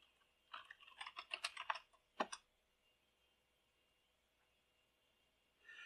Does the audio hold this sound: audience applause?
no